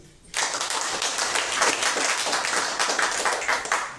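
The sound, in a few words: loud clapping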